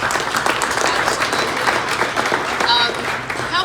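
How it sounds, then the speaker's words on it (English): An audience at a press event on American manufacturing breaks into loud, sustained applause, with voices and cheers mixed into the steady clapping. "we should give everybody a big round of applause for that"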